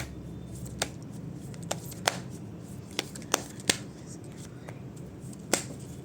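Tarot cards are shuffled and drawn in a quiet room, giving a handful of sharp, separate flicks and snaps spread unevenly over a soft background hush, with no talking.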